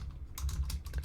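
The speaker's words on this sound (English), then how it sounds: "It's kind of hard to see what I'm typing" Rapid typing on a computer keyboard, a quick cluster of light clicks and taps after a brief pause, faint over a low steady hum.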